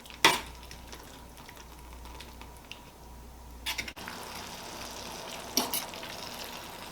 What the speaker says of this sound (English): While your sauce is simmering, you want to check on it once in a while and just toss it around a bit.